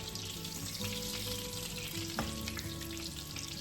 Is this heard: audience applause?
no